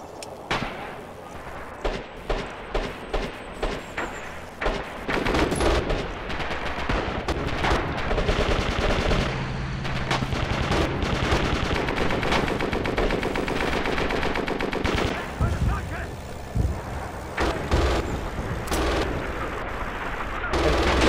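Gunfire in a World War II video game, with several bursts of single shots at the start giving way to sustained machine-gun fire and heavy volleys, loud and dense with brief voices mixed in.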